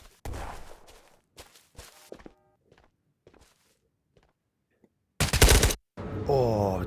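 A short, loud burst of AK-5C assault rifle fire in the video game Ghosts of Tabor. It breaks a quiet stretch of faint shuffling and thuds, and a brief harsh tone follows it.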